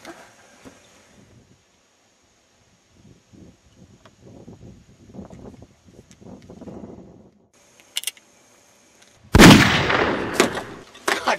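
A gunshot fired at a target while camping outdoors, one sharp loud burst near the end, preceded by rustling and scattered soft movement noises.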